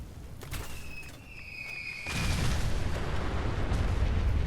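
Artillery firing in the video game Fallout 4, a couple of sharp reports with whistling tones, then a heavy sustained rumbling blast that stays loud to the end.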